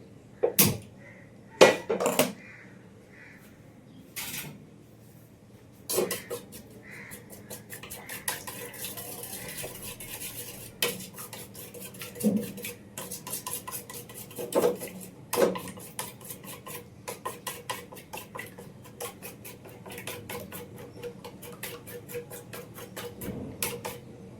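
Ingredients stirred and mixed with a metal spoon in a pan on a home gas stove, bright clinks and scrapes coming in irregular bursts with quiet gaps between, heard close and alone without talk.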